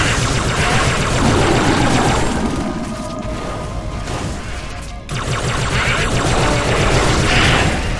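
Dense, loud gunfire from the Halo 3 video game during a co-op Legendary mission, with continuous automatic fire, crashes and booms filling the whole stretch with no let-up.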